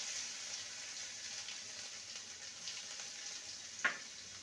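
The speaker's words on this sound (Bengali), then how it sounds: "ভালো করে ভেজে নেব।" A soft, steady sizzle of ginger and green chilli paste frying with spices in a pan for a potato and pointed gourd curry, faint and continuous with a single small clink near the end.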